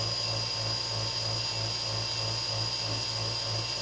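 Wood lathe at moderate speed spinning a dark wood pen blank on an Axminster pen kit mandrel with bushings during polishing, a continuous close motor whine with a faint regular rotational pulse.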